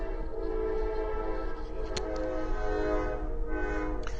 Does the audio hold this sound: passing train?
yes